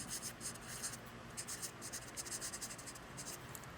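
A pen writes a name on paper in quick, faint scratching strokes, a close, quiet series of short rubbing bursts with no talking.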